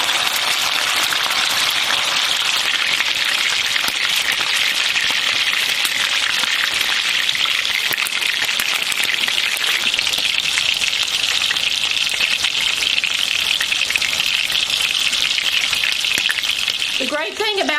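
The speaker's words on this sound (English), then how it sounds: "And we're going to start our sear." Steak searing in a very hot pan with good oil, seasoned with Himalayan salt: a loud, continuous crackling sizzle that holds steady throughout, with a brief spattering burst near the end.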